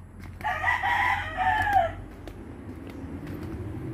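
A rooster crows once, loud and near, a drawn-out call lasting over a second among chickens on a rural farm, followed by quieter background clucking and ambient noise.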